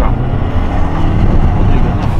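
A Volkswagen Jetta TSI adapted for a tetraplegic driver rolls along, giving a steady, close low engine and road rumble heard from inside the cabin with no clear breaks.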